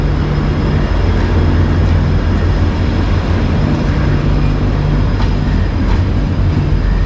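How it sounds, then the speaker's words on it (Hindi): A Gorakhpur–Mailani Express with LHB coaches rolls past, its steady loud rumble and low drone continuing unbroken throughout, with no talk. "आप लोग देख सकते हो LHB रैक के साथ गोरखपुर मैलानी एक्सप्रेस।"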